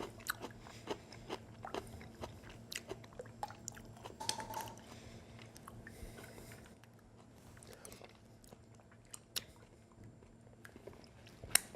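Close, crisp crunching bites into bread and butter pickles followed by steady chewing, repeated sharp crunches over a quiet background hum.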